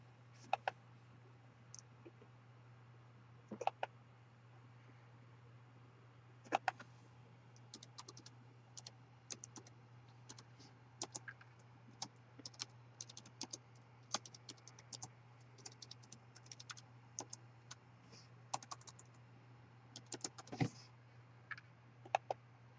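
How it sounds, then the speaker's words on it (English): Names typed on a computer keyboard during a trading-card case break, a steady run of quiet, uneven key clicks with brief pauses over a constant low hum, no talking. "Here, type them all in."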